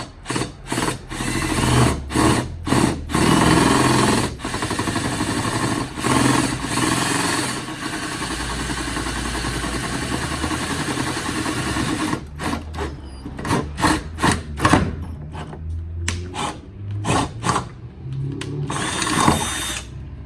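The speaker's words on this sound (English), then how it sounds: "Let's get these drilled first" A drill bores holes through a rear subframe bracket for a Volvo 850 T-5R AWD swap, the spot center-punched beforehand. It whines in one long continuous run, then in a rapid series of short, sharp bursts.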